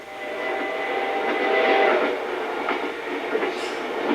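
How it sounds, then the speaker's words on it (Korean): A train runs steadily along the rails during a wartime journey south, a continuous close rumble with faint clicks and a brief high squeal near the end, no voices. "기차는 쉬었다가는 가고 가다가는 쉬면서 며칠 동안 남으로 내려갔다."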